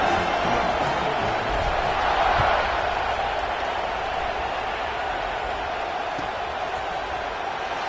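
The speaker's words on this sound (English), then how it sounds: "this crowd is buzzing after that last score" A stadium crowd at a college football game between FSU and Houston keeps up a steady, dense roar after a score, loud and continuous with faint scattered cheers and no clear voice on top.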